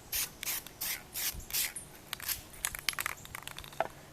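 An airsoft gun is spray-painted over a camo stencil. There are short, close aerosol bursts, about six rhythmic hisses at first, followed by quieter rubbing and clicking handling noises, with no talk.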